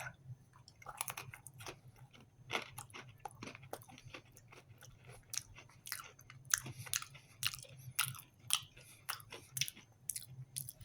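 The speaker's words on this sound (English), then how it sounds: "After a few bites of the crackers, now you're going to start getting a little bit of heat." Seasoned crackers being bitten and chewed up close, with crisp, irregular crunches repeating steadily over a low background hum, no talking.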